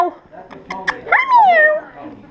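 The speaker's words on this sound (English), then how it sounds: "I hear the kittens." Kitten or mother cat in an Amish barn hayloft gives a few short mews followed by a longer, drawn-out meow, close and clear, with faint background movement.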